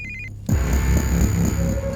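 A telephone rings in a short burst of repeated electronic trills, quickly swamped by a loud, booming stretch of film score in a Hindi-dubbed South Indian action movie.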